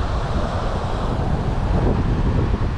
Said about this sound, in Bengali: দেখো সমুদ্রের আওয়াজ শোনা যাচ্ছে